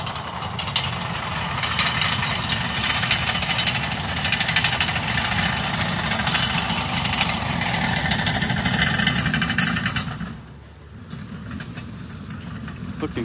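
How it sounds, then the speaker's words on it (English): A bulldozer works on a beach in North Naples, Florida, its steady low engine rumble and knocking idle carrying continuously for about ten seconds before dropping off, then softer engine noise resumes. "Hear the bulldozer."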